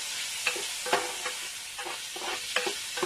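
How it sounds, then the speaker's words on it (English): Ingredients for smoky rice are stirred in a hot pot, giving repeated close scraping and clinking strokes at an irregular pace over a faint sizzle, with no talk. "And I'm going to mix them together."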